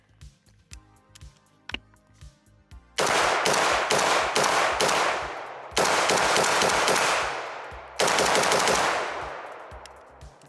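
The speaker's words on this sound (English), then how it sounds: "We're gonna let's do 15 shots" A firearm fires a string of test shots on a range: a few light clicks and handling taps, then three loud, heavy bursts of fire, each with a long ringing decay.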